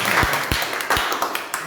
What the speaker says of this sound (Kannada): ಸೊ ಜೋರಾಗಿ ಚಪ್ಪಾಳೆ ಹೊಡೆಯಲ್ವಾ?